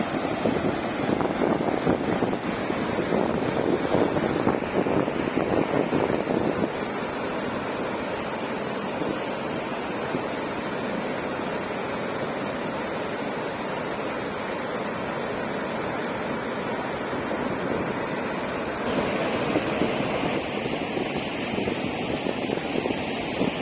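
Water surges forcefully upward like a fountain, producing a loud, continuous roaring rush that swells and eases slightly, mixed with wind buffeting the microphone.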